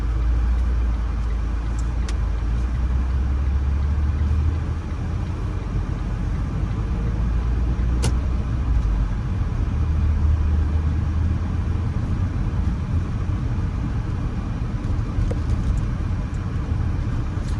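A car drives steadily through the residential streets of Jacksonville's Springfield historic district, turning left at a dead end near 18th and Market, with a continuous low engine and road rumble throughout and no talking.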